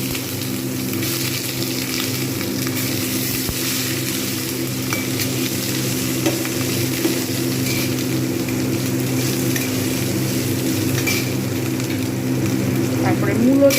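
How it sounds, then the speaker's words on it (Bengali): Dried red chillies, five-spice seeds and vegetables such as aubergine fry in a pan for a Bengali spinach and radish dish, giving a steady close sizzle and hiss throughout with faint stirring, no talk. "এবার এতে দিয়ে দেবো শুকনো লঙ্কা, 5 ফোড়ন। একটু ভাজা ভাজা হয়ে আসবে।"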